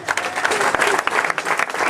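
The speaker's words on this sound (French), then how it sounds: "On applaudit Grégory Carbonel" Audience applause at a motorsport prize-giving ceremony, a steady patter of many hands clapping close by for two seconds, with faint voices beneath.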